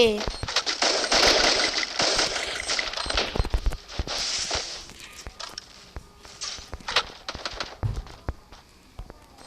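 Rapid automatic gunfire bursts in the mobile shooter Free Fire, sharp cracks clustered early then scattered single shots and footstep-like taps, with a player's voice talking over parts of it.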